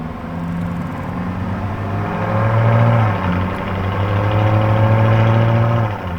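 A Lamborghini Urus S engine drones close and loud on the road, a deep steady rumble that swells as the revs climb briefly, then settles back into a sustained, even pull.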